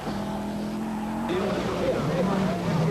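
Audi Quattro 80 Group A rally car at the 1985 Hellendoorn Rally in Holland, its engine note rising and shifting as it races past under a commentator's voice.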